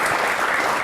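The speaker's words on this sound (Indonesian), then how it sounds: "Tepuk tangan sekali lagi." Audience applause at a talk on a survey institute judging a village head election, a steady wash of many hands clapping in a brief, unbroken burst.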